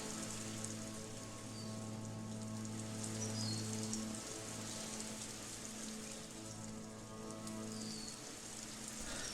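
Recorded rain plays as an alpha-state feedback cue in a neurofeedback session, a steady soft patter of raindrops on a surface over a faint continuous hum, with no voices.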